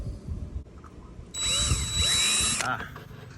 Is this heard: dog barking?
no